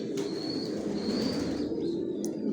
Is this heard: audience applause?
no